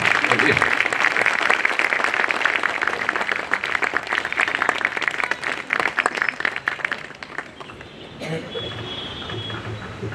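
Loud, sustained applause from an audience at a Bar Council of Delhi enrolment meeting, a dense wash of clapping that carries on for several seconds before thinning toward the end.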